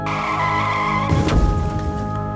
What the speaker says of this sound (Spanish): él lanzaría a Ñoño sobre la carretera donde justamente un carro estaba pasando y lo atropellaría